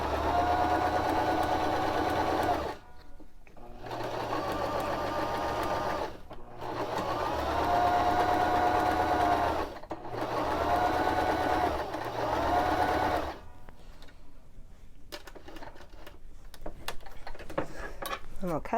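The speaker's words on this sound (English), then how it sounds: "We're going to stitch on either side of it at 1/4 of an inch." A Baby Lock Zest sewing machine stitches fabric in long, steady whirring runs, separated by short pauses, close and loud, with some light clattering near the end.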